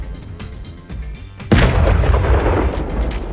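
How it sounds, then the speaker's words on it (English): Heavy artillery fire and shell explosions strike an armored convoy. A few scattered thuds give way to a sudden loud, sustained roar of blasts and rumbling that continues without letup. "Heavy artillery fire halts the rest of the convoy."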